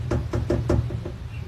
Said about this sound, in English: woken up to the sounds of knocking just outside their bedroom door